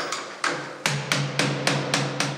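A locksmith hammering at a door lock with a screwdriver and pliers, a series of about eight sharp metallic blows in a steady rhythm, close and ringing with short decays.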